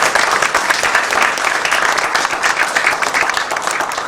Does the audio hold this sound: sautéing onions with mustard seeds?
no